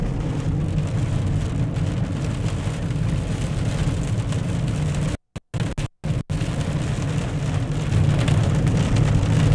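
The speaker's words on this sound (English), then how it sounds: "quite a bit of wind-driven rain" Wind-driven rain pounds steadily during a severe storm south of Newton, a loud continuous broadband wash with a few brief dropouts midway and no voices.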